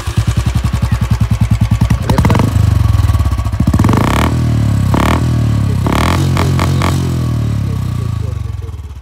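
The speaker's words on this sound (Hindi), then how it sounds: "आज आइए एग्जॉस्ट का साउंड भी सुना देता हूँ।" A 2020 Royal Enfield Classic 350 BS6 motorcycle idles with a loud, close, rhythmic exhaust thump, then revs up several times in rising bursts before settling back to a steady idle.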